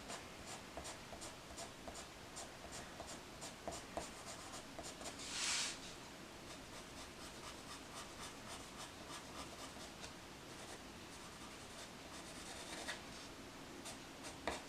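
Colored pencil shading on paper in short repeated flicking strokes, a quiet steady scratchy rhythm heard close and alone, with one brief louder rub midway.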